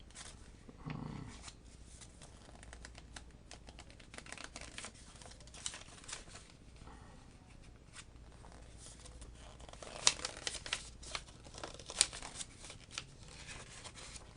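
Paper crinkling and pages being turned in a quiet room, a steady rustle with sharper crackles and snaps bunching together near the end.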